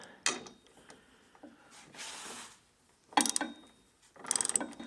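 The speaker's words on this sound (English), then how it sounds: "This last self-drilling bolt screw thing goes in that last hole." A power driver whirs in short bursts as a self-drilling screw grinds into a RAM Promaster 1500 van's metal frame, with scraping and clicks between the bursts.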